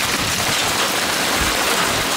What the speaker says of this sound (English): And it started again, but now we have hail.